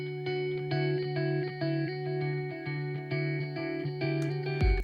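Electric guitar notes repeating through a ping-pong delay for a contemporary rock track, a steady rhythmic pattern with echoes bouncing and sustaining, played alone and up close.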